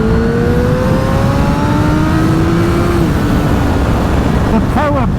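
A Honda CBR1000RR inline-four motorcycle accelerates hard in third gear, its loud, close engine note climbing steadily in pitch over rushing wind before a quick gear change near the end.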